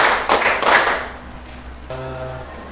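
Primary schoolchildren in a classroom clapping a quick rhythmic pattern, a couple of sharp grouped claps up front that fade out, followed by a low hum in the room.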